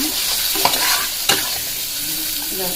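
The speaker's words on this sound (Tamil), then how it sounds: "இப்போ நம்ம தக்காளியை போட்டுடலாம் இப்போ பாருங்க நல்லா வதங்கிச்சுங்க" Tomatoes sautéing over sautéed onions in a pan for green pea kurma, a loud continuous sizzle with a couple of sharp spatula scrapes, heard up close without speech.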